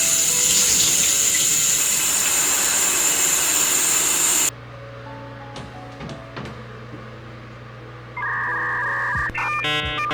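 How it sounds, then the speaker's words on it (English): A shower runs in a steady, loud, hissing rush for about four seconds, then cuts off abruptly. A quieter room remains, with faint clinks and a brief higher tone near the end. "I am taking a shower"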